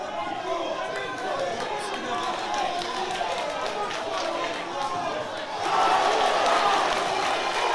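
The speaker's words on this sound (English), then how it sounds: "Crowd literally getting behind every headshot that Dean is landing." Crowd at an amateur boxing club home show cheering as headshots land, a sustained loud wash of voices that swells sharply near the end, with talk mixed into the noise.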